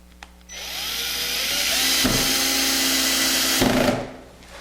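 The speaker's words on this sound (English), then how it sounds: "you use a 3/16 drill to drill through here, using these holes as a guide, through the steel stand" 3/16 drill bit boring through a steel router stand, a loud steady high whine that starts abruptly, holds for about three and a half seconds with slight pitch shifts, then winds down.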